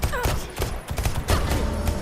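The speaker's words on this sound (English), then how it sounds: "Beck is the one shooting everybody here." Video game gunfire in Deceit 2, a dense run of shots and bursts layered over busy in-game noise, fairly loud and continuous throughout.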